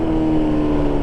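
A BMW M1000RR motorcycle engine idles right after a cold start, a loud, steady, close-up hum with a constant droning tone throughout.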